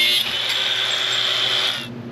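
An angle grinder cutting out metal plates, a loud, steady high-pitched whine that runs continuously for nearly two seconds before dropping away.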